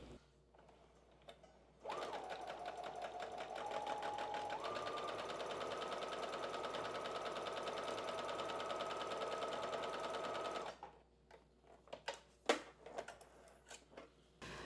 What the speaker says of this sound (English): I think I'm gonna just sew it all the way around, so it's around a full circle